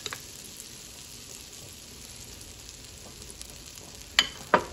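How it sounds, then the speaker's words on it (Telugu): Butter melting in a hot pan before pancakes go in, a faint steady sizzle heard close, broken near the end by two sharp utensil clinks. "ప్యాన్ వేడి చేసేసుకొని కొంచెం బటర్ వేసుకున్నాను"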